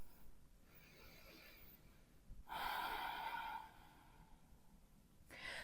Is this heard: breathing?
yes